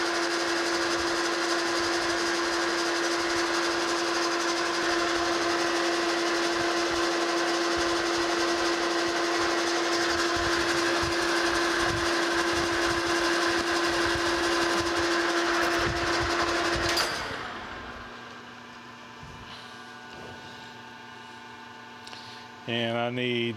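A metal lathe turning a vise guide rod on a cutting pass gives a loud, steady whine and mechanical hum with a constant tone for about seventeen seconds, then winds down to a quieter idle.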